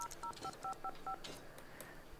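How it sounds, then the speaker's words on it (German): Phone keypad tones sound in The Sims 2, six quick dialing beeps in an even rhythm, fairly quiet, followed by faint clicks. "du kannst nochmal versuchen, jemanden anzurufen"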